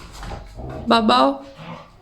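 Dogs play with yips and whiny barks, a louder burst in the middle mixed with a person talking nearby.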